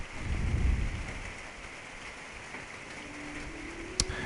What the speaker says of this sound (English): There's rain in real life, which is happening right now